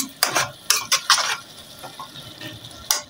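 A spoon scrapes and clinks against a cooking pot while stirring eggplant, giving several sharp metallic knocks in an irregular rhythm with soft wet shuffling between them.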